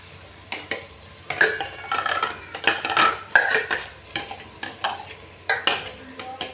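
Spices frying in a pan for Sindhi-style misal, a low sizzle broken by repeated scraping and clinking stirs of a metal spoon against the pan in an uneven rhythm.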